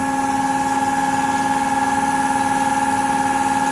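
A Tsune TK5C-101GL ball-screw-driven metal cutting saw runs with a steady, loud mechanical drone and constant whine, an even engine-like hum holding without pause.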